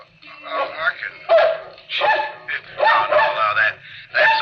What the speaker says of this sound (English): You bark as much as you want.